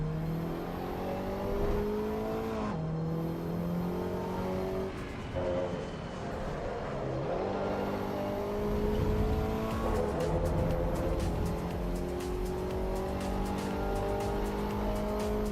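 A race car in Assetto Corsa EVO revs up and down through gear changes, its engine whine steady and close, with tire squeal and rushing road noise building toward the end.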